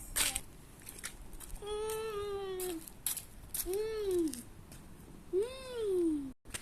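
A cat meows three times, each drawn-out meow rising and falling in pitch, separated by short pauses and a few faint clicks and rustles.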